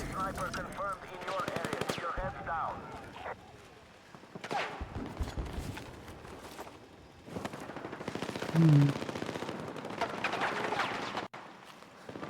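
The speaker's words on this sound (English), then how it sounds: "Enemy machine gun!" Rapid bursts of gunfire from a video game battle, enemy machine gun fire rattling in repeated volleys at moderate loudness, with someone talking over the action and brief lulls between bursts.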